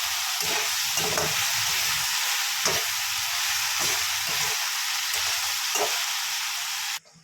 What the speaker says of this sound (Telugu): బెండకాయ ఫ్రై అయితే ఒకసారి కలుపుకోవాలి.